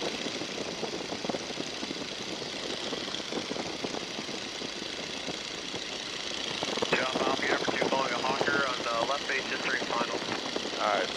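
A 1942 Boeing Stearman biplane's radial engine drones steadily as power comes back to 1750 RPM, a continuous rumble with wind noise, while a voice talks over it throughout.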